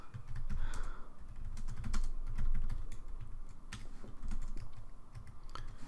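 Fingers tap out an email on a computer keyboard, a quiet, close, irregular patter of key clicks with brief pauses and no speech.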